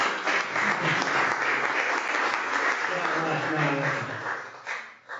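An audience at a talk claps in a dense, sustained round of applause that stays loud and then tapers off near the end, with a voice speaking over it.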